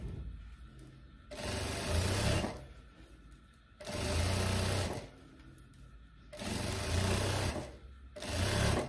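A sewing machine stitches a finishing seam along the binding of a viscolycra dress in four close, whirring bursts of a couple of seconds each, separated by brief pauses.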